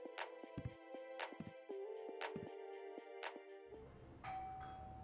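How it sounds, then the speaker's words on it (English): An indoor doorbell in a sitcom home sounds a ringing ding-dong chime several times in succession, clear and fairly close, before the room tone shifts to a quieter background. "Hey, Frank, can you get the door?"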